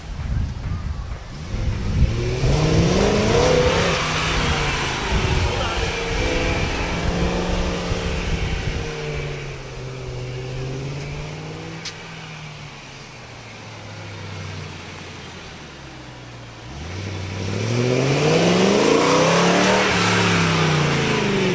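A car engine revs repeatedly at moderate speed, pitch climbing and falling in long sweeps, loud and close, easing off midway before rising again.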